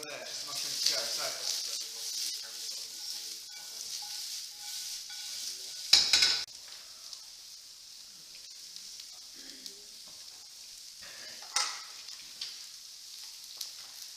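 Cauliflower, onions and mushrooms sizzle and stir-fry in a pan with a soft continuous frying hiss, a clatter of utensil against the pan near the middle, and occasional speech over it.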